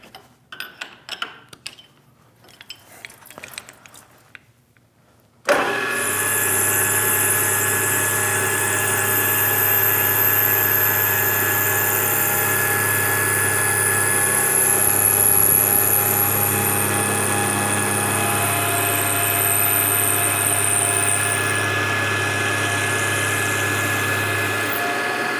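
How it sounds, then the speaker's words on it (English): A PM-940 milling machine starts after a few seconds of quiet clatter and runs a cut at full speed, giving a steady, loud whine and hum that continues unbroken. "run this one flat out as fast as the mill can go, and we'll take about half of it in the first pass"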